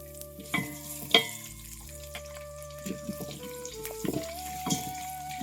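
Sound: onions and cumin frying in oil for tempering

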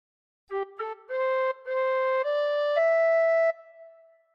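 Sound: tin whistle playing phrase of Be Thou My Vision

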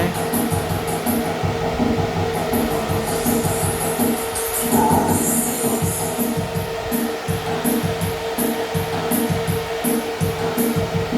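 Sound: power amplifier cooling fan

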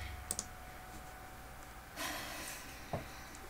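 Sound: mouse clicking to open Minecraft launcher

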